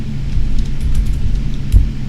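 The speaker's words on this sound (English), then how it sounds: "Engine 1 started." A Boeing 777-300 engine starts up in the PMDG flight simulator: a steady, loud low rumble and hum that holds throughout, with a faint hiss above it and a brief thump near the end.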